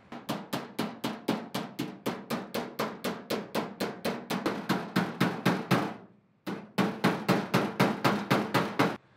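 A hammer with a sharp chisel end folds a metal door skin over the door frame: rapid, even metallic blows, about three per second, loud and close, with a brief pause before the steady hammering resumes.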